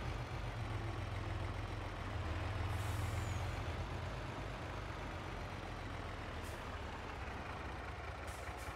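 A truck rolling slowly in Farming Simulator 22, with a steady low engine drone that holds even and continuous throughout, quiet and with no voices.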